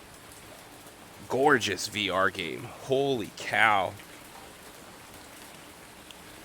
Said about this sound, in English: The sound of the rain pitter-pattering on the window is just top notch.